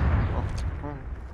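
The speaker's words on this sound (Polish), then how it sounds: "O, strzały." Gunshots in the video game Squad, a few muffled booming reports with low rumbling tails in quick succession, heard close under a speaking voice.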